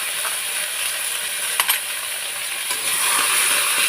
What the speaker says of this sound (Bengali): কড়াইতে আমি একটু ঘি দিয়ে দেবো, আর ঘি দিয়ে একটু চালটাকে আমি হালকা করে ভেজে নেবো।